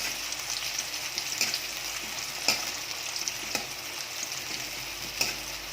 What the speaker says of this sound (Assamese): জলকীয়া পিঁয়াজটো অকণমান ৰঙা পৰি যোৱাকৈ ভাজি ল'ব লাগিব প্ৰথমতে।